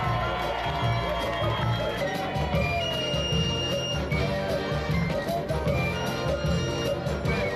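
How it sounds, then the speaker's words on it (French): Public crowd noise at a cycling event in Guadeloupe, the Tour de la Guadeloupe, with a steady wash of applause and cheering that holds loud and continuous throughout, voices and festive background sound mixed in. "Et les applaudissements du public."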